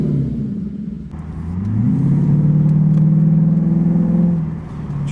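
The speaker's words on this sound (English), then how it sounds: "he even took off the muffler, so just sounds a little bit more throaty now" A Lexus IS F with its muffler taken off gives a throaty, deep exhaust drone that dips and then swells as the engine revs up and holds, loud and close, with no talking.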